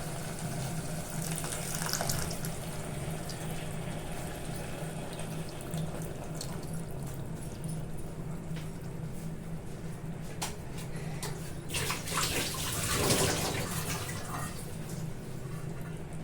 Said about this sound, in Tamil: கரைச்சி வச்சிருக்கோம்ல புளி, இதை வந்து சேர்த்துக்கிறோம்